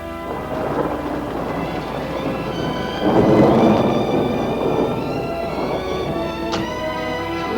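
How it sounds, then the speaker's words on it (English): Heavy rain pours down steadily outdoors near the Rio Grande River while thunder rolls through, swelling into a louder rumble partway through before easing under the continuing downpour. "it started to rain and rain hard."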